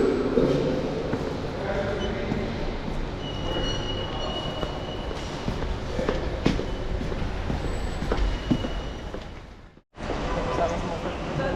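A train rumbles and screeches inside Zagreb's Grand Central station, with wheels squealing and clattering on the rails under a continuous hall echo, and voices murmur nearby.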